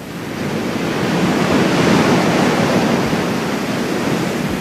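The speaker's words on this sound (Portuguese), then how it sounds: "embalados pela respiração profunda e sempre presente do mar" Sea waves wash steadily against the shore of Gorée island, a continuous close roar of surf with wind that swells slightly and holds for several seconds, with no voices.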